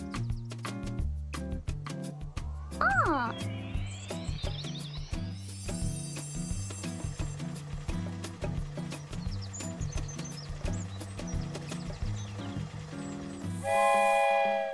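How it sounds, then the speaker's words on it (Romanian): Cartoon-style toy train music from a children's show, with a bouncy tonal melody, a rising whistle-like slide near the start and a bright whistle toot at the end, steady and loud with no speech. "Și uite! Este trenul Mark!"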